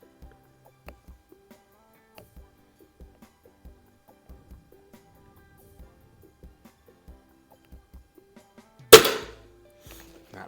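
Soft, sparse taps repeat at irregular intervals, each a .177 pellet from a break-barrel air rifle striking a wooden board, then one louder sharp impact near the end; otherwise quiet.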